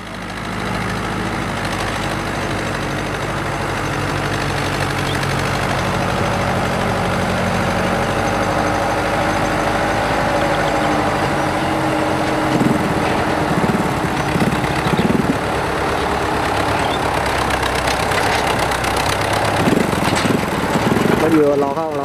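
A Fiat 850 four-wheel-drive tractor with its own engine runs in floodwater, a continuous loud diesel chug with occasional knocks and surges in the later part, while a voice talks over it.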